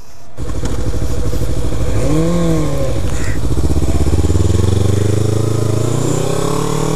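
A 2014 Honda CBR650F motorcycle is ridden, its engine droning loud and close with a rising and falling pitch as the throttle changes, while wind noise runs underneath.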